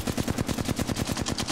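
Rapid automatic gunfire from an Apex Legends match, a steady stream of close, loud shots about a dozen per second with no pauses and no talking.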